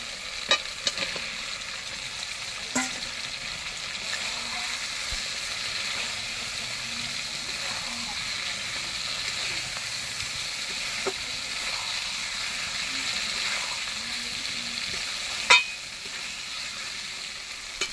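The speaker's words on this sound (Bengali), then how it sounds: "ভেজে রাখা আলুটা দিয়ে দেবো" Fried potatoes go into a pan of spice masala for Kashmiri aloo dum and sizzle steadily in hot oil, a soft continuous frying hiss with a few faint clinks of a spoon against the pan.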